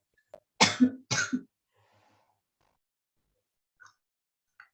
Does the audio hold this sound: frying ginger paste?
no